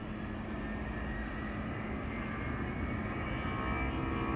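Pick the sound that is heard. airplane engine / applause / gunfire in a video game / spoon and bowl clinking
airplane engine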